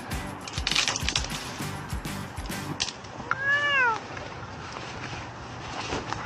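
A frightened old cat gives one clear rising-and-falling meow partway through, over steady rustling background noise and brief scuffling sounds, with people talking around it.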